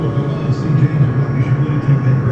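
A milling machine cuts the top of an aluminum shaft at about 1400 RPM with no coolant, giving a steady, close, loud mechanical hum with a faint rhythmic pulsing throughout. Someone talks over it.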